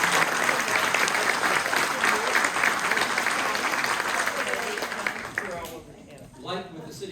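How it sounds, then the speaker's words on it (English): An audience at a residents' mayoral candidates forum gives a full round of applause, dense and steady before tapering off, with a voice speaking as it dies away. "Let's give them a round of applause."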